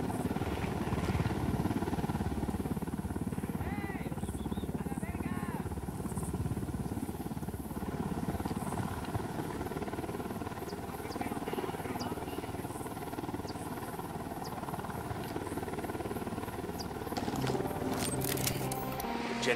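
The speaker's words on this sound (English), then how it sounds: "Don't need that chopper. Stay low." A helicopter in the video game Ghost Recon Wildlands, a steady low rotor thrum droning throughout at moderate level, with faint game sounds around it.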